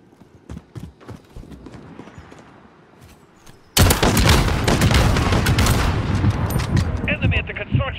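Dense bursts of gunfire and explosions from a multiplayer shooter game erupt suddenly midway, loud and continuous after quieter clattering, with mixed impacts crowding the rest.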